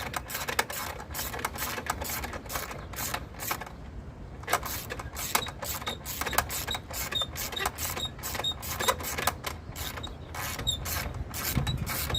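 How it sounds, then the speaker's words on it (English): Manual, non-spring-loaded belt tensioner on a Ford engine being cranked tight by hand, giving a steady run of close, repetitive mechanical clicks and creaks like a ratchet, continuous with no talking. "You just gotta crank this until it's tight enough. It's a manual tensioner, not spring loaded."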